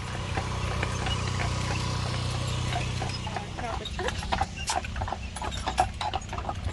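Horses by the corrals on Mackinac Island clip-clop in a loose rhythm, hoof strikes growing sharper and more frequent toward the end over a steady low outdoor rumble.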